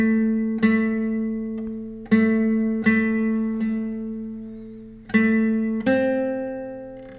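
Plucked guitar playing the chorus phrase of Jingle Bells, a short melody of sustained single notes with several clear attacks that ring out and decay, close and alone without talk.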